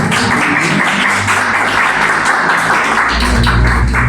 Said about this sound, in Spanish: Démosle un fuerte aplauso a María